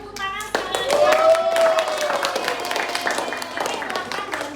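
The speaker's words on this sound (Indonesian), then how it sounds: "Beri tepuk tangan sekali lagi." A classroom of people claps hands in a burst of applause, fast uneven clapping with children's voices mixed in, fading slightly toward the end.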